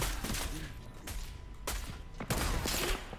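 Gunfire in the Fortnite video game, including sniper rifle shots: several sharp, loud cracks spaced irregularly over a busy game backdrop, with brief voices.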